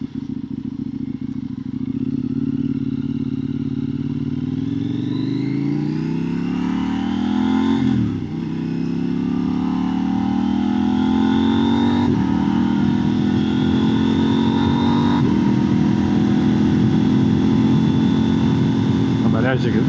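A powerful 190-horsepower street motorcycle engine revs up and climbs steadily with a loud droning roar, with small dips where it shifts, close and continuous for the whole stretch.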